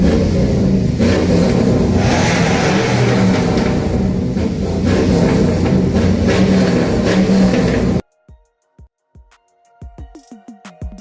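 Show cars filing into a car show rev their engines in a loud, dense rumble of overlapping bursts, then the roar cuts off abruptly and a few sparse knocks and clicks follow.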